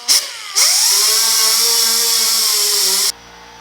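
An 80-grit roll lock disc sands soft, gooey paint off the door of a 1950 Chevy truck, giving a steady high-pitched whine. It gives a brief burst, then runs continuously for about two and a half seconds before stopping.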